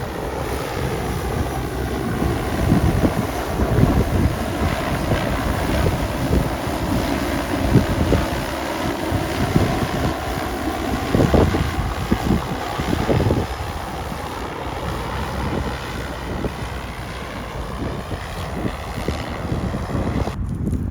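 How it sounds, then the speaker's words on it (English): Gusty wind buffets the microphone outdoors on farmland where a drone is seeding oilseed rape, a steady broadband rumble with swelling gusts throughout, loud and continuous with no talk. "bit of wind then, was it?"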